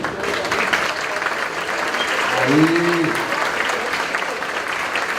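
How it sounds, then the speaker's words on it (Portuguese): Steady broadband applause at a university panel on pension reform fills the whole stretch, a continuous patter of many hands, with a brief spoken interjection near the middle. "Cadê o aplauso?"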